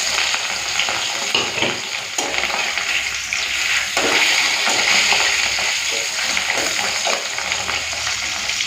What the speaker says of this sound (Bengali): সর্ষে তেলটা ভালো করে গরম করে নিয়েছি এরপরে মাছটা ভেজে নেব